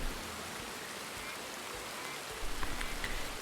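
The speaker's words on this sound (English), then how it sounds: "I could listen to this rain all day. It sounds really realistic" Steady rain hisses in a video game, a broad, even wash of falling drops with a few brighter patters near the end, and no talking.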